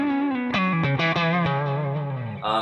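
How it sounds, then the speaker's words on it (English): Electric guitar on its neck pickup with the volume fully up, running through a Fractal Axe-Fx II Budda-style preset: warm, sustained, lightly driven notes and chords played loud and close, each new attack ringing into the next with no talking. "Here's the neck pickup, volume wide open."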